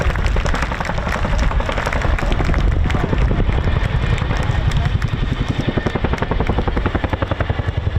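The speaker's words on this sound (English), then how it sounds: "the thunderous sound of the Chinook's roar" An RAF Chinook helicopter departs at the RIAT 2023 airshow at RAF Fairford, its loud, thunderous rotor blade slap pulsing rapidly and continuously over a deep engine roar, close and dominant throughout.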